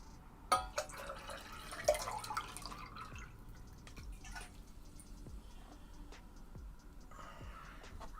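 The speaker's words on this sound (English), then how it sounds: "Refilling some water here." Water being refilled at a desk setting, with soft drips and a brief pouring trickle near the start, then scattered quiet drops against a low room hum.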